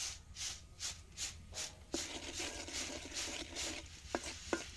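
Popcorn kernels with salt are stirred in a pan over low heat, giving rhythmic scraping and rubbing strokes, soft and close, with a few sharp taps near the end.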